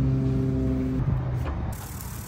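A car engine strains steadily to haul a golf cart out of the water on a rope, a low sustained hum with harmonic tones that breaks into rougher, uneven rumbling partway through; no talking.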